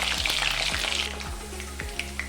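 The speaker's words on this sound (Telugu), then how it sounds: "ఆయిల్ కాగిన తర్వాత ఇందులోకి కాలీఫ్లవర్ ముక్కలు కొద్దిగా వేసుకొని వేపుకోవాలి" Cauliflower pieces fry in hot oil in a pan, producing a bright close sizzle that eases after the first second, punctuated by several clunks and taps of a utensil, with no talking.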